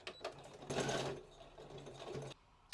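A sewing machine stitches the seam of a fabric band in a few short bursts of motor whirring and needle chatter, with a longer run in the middle, close up and fairly quiet, with no talking.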